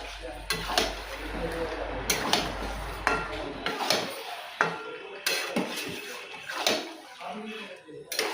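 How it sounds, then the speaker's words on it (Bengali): Chicken meat stir-fried in a pan for a thin chicken curry with potatoes, with scraping and clattering of a spoon against the pan, soft sizzling, and a low hum in the first half. "এবার মাংসটা আমি ভালো করে কষিয়ে নেব।"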